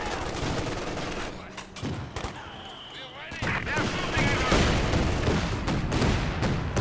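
Assault infantry rifle fire in Company of Heroes 2, a dense crackle of overlapping shots and distant booms running continuously under a battle soundscape, with a voice talking over it.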